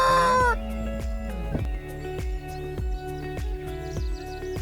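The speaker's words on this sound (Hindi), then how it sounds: "ये रही इनकी अपनी पोल्ट्री।" Poultry on a guesthouse yard in a forested area clucks in a short burst of overlapping calls, with a rooster-like cry at the start, then steady rhythmic clucking close by.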